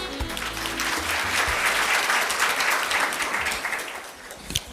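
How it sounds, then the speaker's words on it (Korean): A conference audience at a national dementia management workshop claps for an introduced professor, a broad continuous patter of many hands that holds steady and then begins to fade near the end. "큰 박수를 부탁드립니다"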